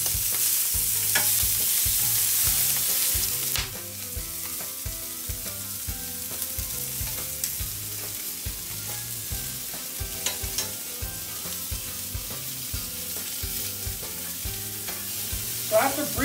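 Prawns fry in a hot pan, a loud steady sizzle close by with soft rhythmic clatter of the pan and utensil throughout, no voices.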